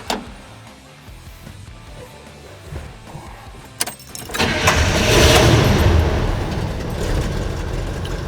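A 1975 International Scout II starts up: keys and a brief cranking, then the engine catches on the first try and settles into a loud, steady idle close by.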